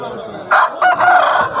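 A rooster crows loudly and close by at a rooster market in Kavundapadi, one brief, strained call with a few sharp rises.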